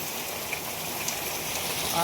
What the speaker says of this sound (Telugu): వావ్ వర్షం చాలా డేంజర్